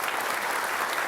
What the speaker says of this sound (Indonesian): kita kasih aplaus untuk Pak Basuki terlebih dahulu